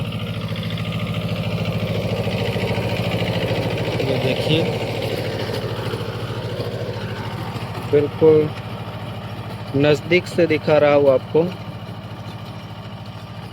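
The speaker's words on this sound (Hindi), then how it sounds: "कितने बढ़िया तरीके से ट्रैक्टर काम कर रहा है।" A tractor with a rotavator works a young cotton field, its engine giving a steady, close, mid-pitched rumble throughout. Someone talks over it in short bursts.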